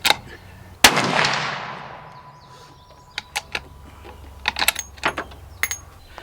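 A single loud rifle shot fired at a target over a chronograph outdoors, its crack decaying into a long rolling echo, followed by faint clicks and handling noises.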